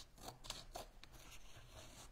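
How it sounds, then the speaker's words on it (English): Craft secateurs snip through painting canvas around a frame, giving a few quiet, crisp cutting clicks spaced over a couple of seconds against faint room noise. "call them craft secateurs or something or other, to just cut off the canvas around those areas there"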